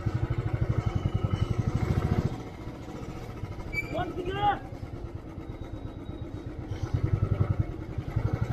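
A motorcycle engine idles with a steady low mechanical throb on a Delhi-to-Panipat road trip, loud and close, with people talking over it and a brief break in the rumble midway.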